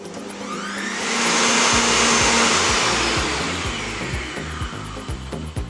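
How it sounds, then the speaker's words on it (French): A Kenwood Cooking Chef stand mixer whips egg whites, its motor swelling to a loud whirring roar before easing back, with rhythmic low thumps of the whisk repeating toward the end. "Maintenant je vais monter les blancs au robot Kenwood."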